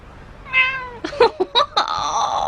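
A house cat meows several times indoors, a drawn-out tonal call followed by a quick series of short, rising meows, close and clear with no talking over it.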